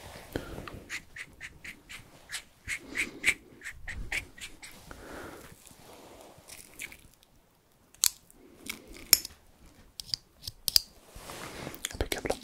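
Scissors cut hair at a hairdresser's, giving repeated crisp, close snips in bursts, with soft whispered talk between them.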